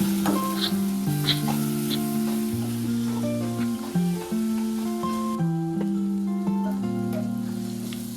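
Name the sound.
stirring corn cobs into gravy in a pan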